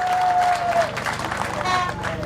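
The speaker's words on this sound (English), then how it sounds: "Can I ask you for clap for her?" A crowd applauds at a Ugandan government event about delivering Akii Bua Stadium, a broad continuous patter of clapping with murmuring voices and a faint whistle-like tone mixed in.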